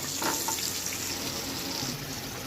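Chopped onion goes into hot oil already holding black cumin, tomato and capsicum for a chicken dish, and a soft, even frying hiss and bubbling follows for a few seconds with no talk.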